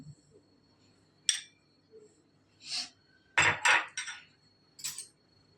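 A metal spoon clinks and scrapes against a bowl of ginger-chilli paste several times in short bursts, with quiet pauses between the sounds.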